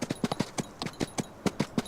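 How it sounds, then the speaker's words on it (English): Horse hooves galloping across terrain in a video game, a quick steady run of close, distinct clip-clop beats over about two seconds with no talking. "Good galloping sounds as well."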